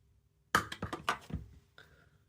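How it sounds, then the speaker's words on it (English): Small scissors cut deer hair while tying a humpy dry fly, giving a quick cluster of crisp, close snips followed by one fainter snip in an otherwise quiet room. "Come on with your scissors, cut that away to length."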